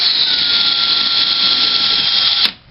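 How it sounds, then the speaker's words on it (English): A power drill with a 1/4 inch bit bores through drywall in a closet installation, a loud steady high whine held for over two seconds before cutting off abruptly. "I'm going to go through the drywall about 1/2 inch."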